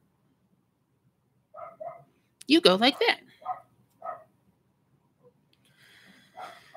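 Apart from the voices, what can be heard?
dog barking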